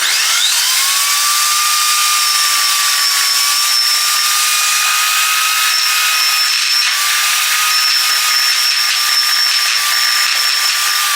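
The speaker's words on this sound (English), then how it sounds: "It's not the easiest thing to drill into cement." Power drill boring into a cement ring water tank, a loud continuous high-pitched whine with a steady grinding hiss, running unbroken for about ten seconds with no talking.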